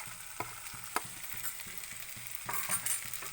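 Ground chilli, coriander and cumin frying in a pan for a duck egg curry, a soft sizzle under regular scraping strokes of a spoon stirring the masala, close and fairly quiet, with no talk.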